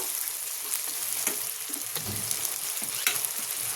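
Fish fat fries in hot oil in a pan, giving a steady, close sizzle with scattered pops and crackles throughout, with no talking.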